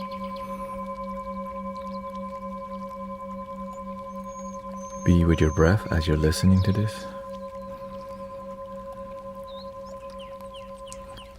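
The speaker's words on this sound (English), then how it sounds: "this one sounds like this" A medium-sized singing bowl rings with a steady, sustained tone and long shimmering overtones, mostly alone, while a calm voice speaks briefly over it midway through.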